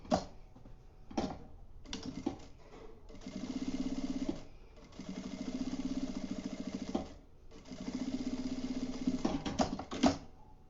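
A sewing machine stitches along a fabric edge on a kitchen wall panel, running in several bursts of steady whirring, some short and some several seconds long, separated by brief pauses and small clicks.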